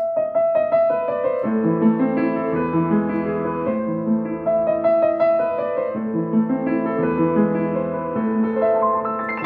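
A Yamaha B2 Silent upright acoustic piano plays a flowing melody over sustained chords, clear and moderately loud, continuing steadily for several seconds with no speech.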